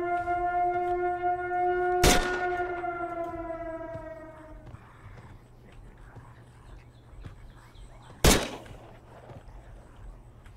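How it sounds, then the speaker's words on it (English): Gunfire in the game Fight or Flight: two sharp, loud shots several seconds apart ring out, the first over a fading siren-like wail, against a low rumbling background with no voices. "Like, where are they shooting from?"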